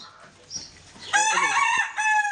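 Chickens on a small farm clucking close by, soft at first and then breaking into a loud, harmonic squawking cackle lasting about a second, followed by another loud burst near the end.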